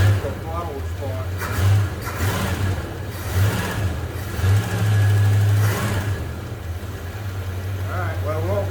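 A 1971 Dodge Coronet police car V8 with a cleaned Carter 4-barrel AFB carburetor runs at idle, with a steady low engine drone and several brief throttle blips rising and falling, while someone talks over it.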